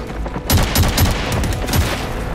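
War-film gunfire from across a bridge crackles as a rapid volley of sharp shots, several close together in a brief, dense burst.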